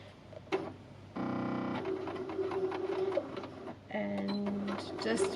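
A sewing machine stitching pockets onto a fabric book cover, running in short buzzing bursts with pauses between, while a person talks over it.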